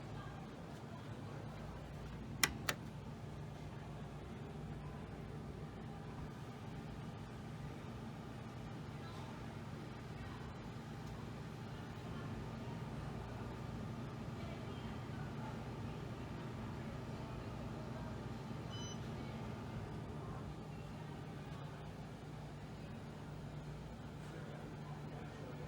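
An Otis Series 5 hydraulic elevator at the Emagine Theater in Royal Oak, Michigan, runs with a quiet, steady low hum and drone, marked by a couple of sharp clicks near the start.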